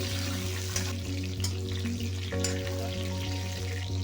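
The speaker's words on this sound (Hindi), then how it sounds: "इसी तरह से हम गोभी को थोड़ा फ्राई कर लेंगे" Steady sizzling and crackling of cauliflower frying in hot oil, with occasional clinks and stirring noises, no voices.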